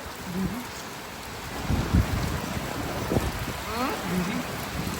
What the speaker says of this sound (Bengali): আল্লাহ রহমত বর্ষিত বসতে আমাদের উপরে একদম বৃষ্টি হইতেছে